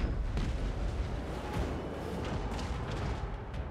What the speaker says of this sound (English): A cannon trying to pick them off